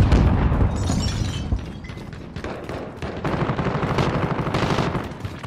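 Gunfire in Call of Duty: Modern Warfare: dense, loud bursts of rapid automatic shots overlap with booming impacts and clattering debris, near and continuous throughout.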